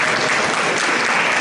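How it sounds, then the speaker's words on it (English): An audience at a baccalaureate ceremony applauds, a dense, steady wash of clapping hands that stays loud and even throughout the short burst, with no voices over it. "Another round of applause for Chick,"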